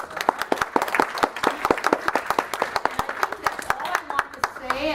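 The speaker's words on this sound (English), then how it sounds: "So a round of applause." An audience applauds for a program assistant at a talk event, a lively burst of many hands clapping in quick, uneven rhythm, loud and close, running continuously to the end.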